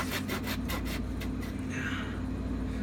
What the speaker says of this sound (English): Well, this really isn't meant for wood, it's meant for drywall.